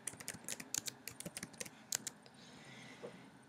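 Rapid, uneven keystrokes on a computer keyboard as bogus test user details are entered, close and clear for about two seconds before trailing off into a few scattered taps and quiet room tone.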